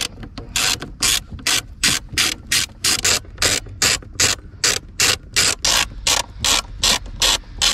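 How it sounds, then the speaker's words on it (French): A ratchet wrench turns Torx 20 screws under the seat of a BMW 1 Series F20, giving a steady run of about sixteen close, even ratcheting strokes of rasping clicks. "vous allez prendre une Torx de 20 et il y a 4 vis à démonter"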